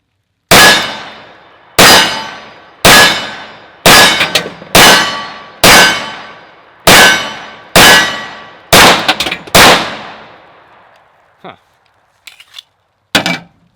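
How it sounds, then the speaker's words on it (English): A Tanfoglio Witness Elite Match pistol fires 10mm Sig Sauer 180 grain rounds: ten loud, sharp shots about one second apart, each ringing out briefly. A few fainter knocks follow. "we're just going to shoot these back to back again. So first up, the Sig Sauer 180 grain."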